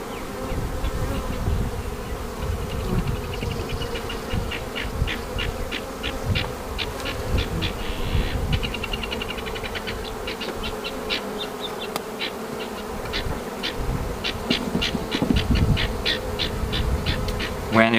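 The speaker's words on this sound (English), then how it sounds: "Just a big bee." Honeybees buzzing around an open hive during a spring inspection, a dense continuous drone with individual bees zipping close by, plus faint handling sounds.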